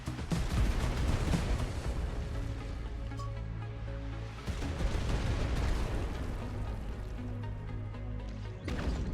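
Artillery barrage ability in the Farlight video game, a dense, sustained rumble of booming impacts and crashing blasts that keeps pounding for several seconds, with a fresh burst near the end.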